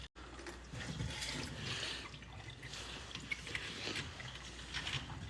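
Water runs steadily from a home iron-removal water filter system, a constant close hiss with faint dripping and no voices.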